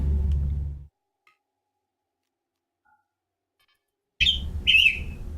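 A phone alert goes off nearby during a RimWorld game: two short, bright electronic chirps that come after a few seconds of near silence, over a low hum.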